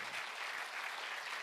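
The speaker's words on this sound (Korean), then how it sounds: "뜨거운 박수로 맞이해 주십시오" Sustained audience applause at a book talk welcoming an author, dense clapping from a crowd filling the whole moment, steady and moderately loud.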